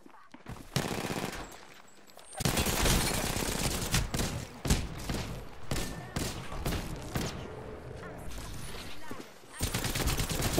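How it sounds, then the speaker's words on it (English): Enemy gunfire in a shooter video game, bursts of rapid automatic fire and fusillades rattling loudly across most of the stretch with brief pauses, and a player voice talking over it. "They're shooting at me."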